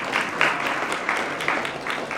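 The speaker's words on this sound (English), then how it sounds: "If you feel inclined to give them a clap" Audience applause at a professional service awards ceremony, a moderate, fairly distant patter of many hands clapping steadily for a couple of seconds.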